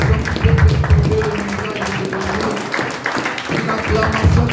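Church congregation applauding during a worship service, a loud rough wash of clapping and acclamation voices with a busy low rumble, sustained throughout.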